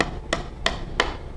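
A dough scraper chops through rolled potato gnocchi dough on a board with three sharp, evenly spaced taps, close up, over faint background noise.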